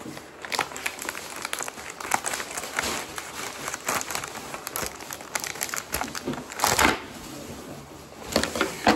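Crinkly plastic wrapping of a package torn open after being cut with scissors, a busy rustling and crackling that runs throughout at close range with a few louder bursts.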